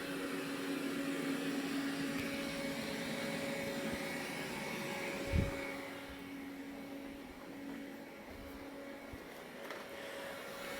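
Roborock robot vacuum running at max suction indoors, a steady whirring hum with a constant motor tone throughout, close and moderately quiet, with a brief bump partway through.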